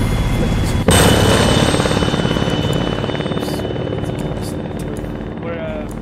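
Helicopter flying overhead in the Arma 3 Antistasi game on Altis, a loud steady rotor thrum that starts abruptly and fades slightly over several seconds, with speech partly audible alongside.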